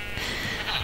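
Sheep bleating in the Minecraft video game, a short, fairly loud, close bleat that stays steady for under a second with no talk over it.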